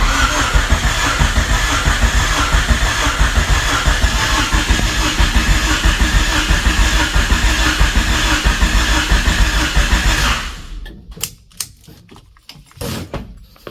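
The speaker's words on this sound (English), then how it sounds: "starter works, starter relay works, but it's not firing" A Honda Civic engine cranks steadily on its starter for about ten seconds without catching, a dense continuous churning close by, then cuts off, leaving a few faint clicks and knocks.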